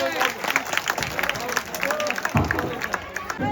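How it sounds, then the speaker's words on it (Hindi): Applause from a crowd, a dense patter of clapping with some chatter mixed in, steady throughout. "उनके लिए भी एक बार जोरदार तालियां हो जाए"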